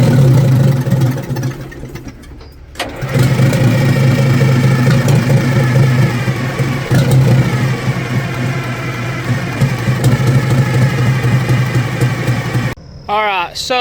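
A stubborn Detroit Diesel engine with both fuel filters pre-filled with ATF cranks and then runs loud and rough, a steady heavy diesel clatter that lasts most of the clip before cutting out near the end.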